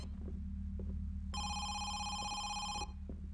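A telephone rings inside the horror video game Home Sweet Home, a bright electronic trill starting partway through and lasting about a second and a half over a low, droning ambient rumble.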